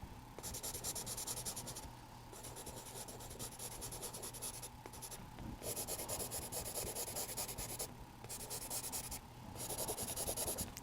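A 4B charcoal pencil shading on paper for a horse silhouette drawing, giving close, continuous scratchy rubbing strokes that pause briefly a few times, steady and fairly quiet with no talking.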